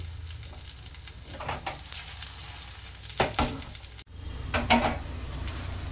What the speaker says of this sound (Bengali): উল্টে দিয়ে পিঠের দিকটা ভাজতে দিয়েছি। এটা 1 মিনিট ভাজা হয়ে গেলে আমি নামিয়ে নেব।